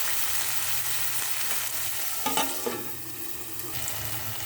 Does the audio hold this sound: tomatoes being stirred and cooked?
yes